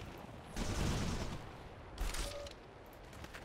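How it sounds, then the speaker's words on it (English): Units firing on a giant worm in the strategy game Civilization: Beyond Earth, a burst of loud gunfire-like fusillade followed by a second, shorter volley, with low rumbling booms underneath. "Go ahead and shoot the worm."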